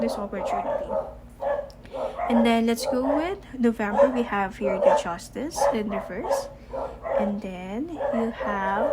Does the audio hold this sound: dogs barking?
yes